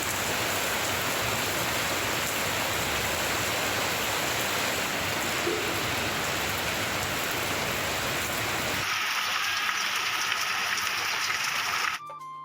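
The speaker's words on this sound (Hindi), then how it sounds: "कसूर में भी मूसलाधार बारिश का सिलसिला जारी है।" Heavy torrential rain pours down in Kasur, Pakistan, as a dense, loud, continuous roar of rainfall that drops sharply near the end.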